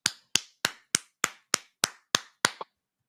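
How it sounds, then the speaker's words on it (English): Hand clapping in celebration: nine sharp, crisp claps at an even, fairly quick beat, loud and close, then silence. "Now, clap your hands and celebrate."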